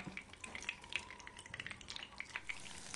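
Hot oil sizzles and spatters under a frying dried-anchovy omelette, a dense crackling with quick pops scattered throughout, soft and steady, heard close with no talking.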